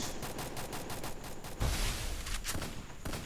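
A shooting video game with an MP5 in play produces dense, rapid bursts of gunfire, loud and continuous throughout.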